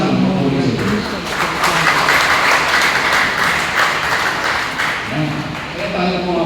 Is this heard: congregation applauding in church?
yes